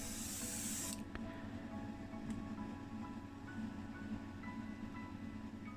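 An aerosol can sprays white enamel paint onto a model sheriff car, a bright hiss lasting about a second before cutting off, leaving a quiet hum of the room behind it.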